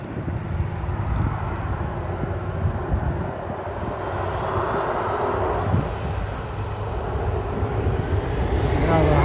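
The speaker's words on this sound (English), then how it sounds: "Airbus 320." Air Canada Airbus A320 airliner produces a steady, broad jet roar that builds slightly, heard outdoors at an airport, with a person talking briefly.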